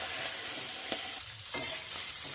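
Cabbage leaves fry on high heat in a pan with a continuous hiss, broken by a couple of sharp utensil taps and scraping stirs; no speech.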